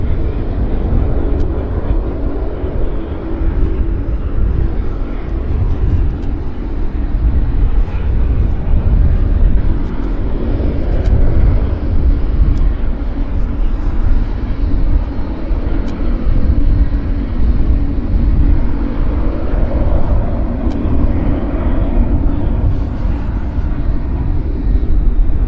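An aircraft with rare Allison engines runs at Vancouver airport, a loud continuous rumbling drone that holds steady for the whole stretch with no talk.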